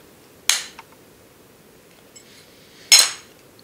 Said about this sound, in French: À l'aide de mes mains, je vais pouvoir le détacher en exerçant une pression de chaque côté de cette façon-là.